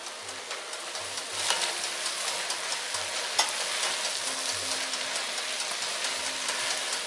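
An ingredient stirred into a sizzling pot as the base of a chicken and roasted corn chowder cooks, a constant close hiss with soft, irregular stirring knocks and scrapes, no voices.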